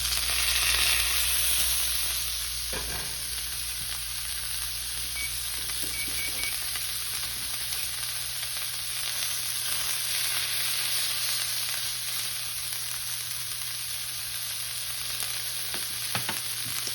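A flat iron steak sears in a hot pan with a steady, loud sizzle and crackle that runs unbroken. No one speaks, and a few faint clinks come from the cookware.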